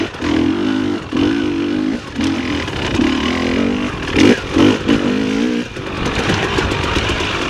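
Dirt bike engine revs in repeated pulses while the rider holds off the clutch, with a loud, close, rising and falling motor note filling the clip.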